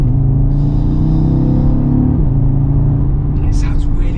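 Audi RS Q3 Sportback engine heard from outside, a steady loud low rumble with a slight pitch shift as revs change, continuous throughout.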